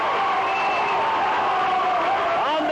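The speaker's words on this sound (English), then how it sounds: "And the crowd reacts" Loud, sustained roar of a basketball crowd reacting to a dunk in a college game, steady cheering and whooping filling the arena throughout.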